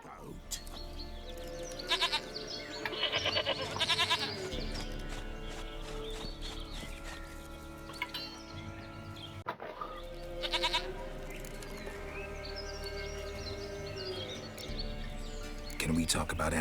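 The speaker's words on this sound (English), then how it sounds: "Goat of mine, dearest goat." A goat bleats in The Witcher 3 video game, repeated cries standing out over quiet game ambience and hoof clip-clop, with a voice talking in between.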